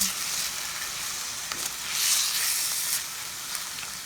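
Chicken adobo with Knorr cubes being stirred in a hot pan, a steady broadband sizzle with faint scraping of the spoon, close and continuous with no talk.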